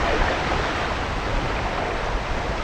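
A boat on the waves of Chesapeake Bay south of Solomons Island, Maryland, heard as a dense, loud, unbroken wash of water and wind noise that holds steady with no voices.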